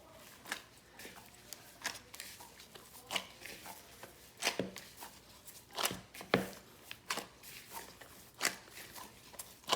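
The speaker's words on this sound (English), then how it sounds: "knead it really well" Sweet mantou bun dough being kneaded by hand in gloves, with irregular soft slaps, presses and squelches close up. No talking.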